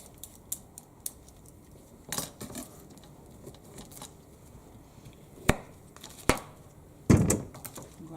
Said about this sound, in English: Next one is my carrot. And it's okay to peel your vegetables on the side